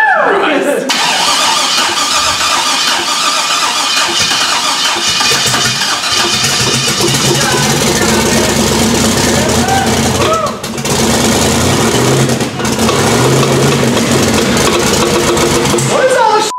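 A twin-turbo LS engine fitted in a Toyota Hilux cranks and fires, then settles into a loud, rough, lumpy idle that carries on throughout, with people talking over it.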